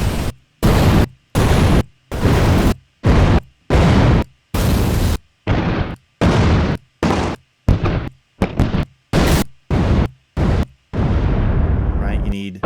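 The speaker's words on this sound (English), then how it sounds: "Cartoon ones, fire and explosions." A rapid series of explosion sound effects, some cartoon-style, each a loud booming burst cut off by brief silence, about twenty in quick succession, ending with a longer rumbling blast that fades out.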